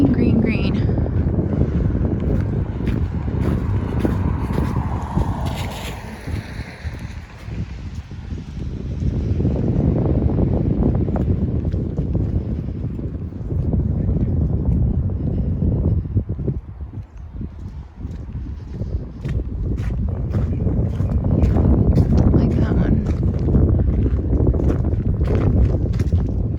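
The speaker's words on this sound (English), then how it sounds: "Don't know how noisy the wind is." Wind buffets a microphone during a summer walk through Assiniboine Park in Winnipeg, a loud continuous low roar that swells and eases in gusts throughout.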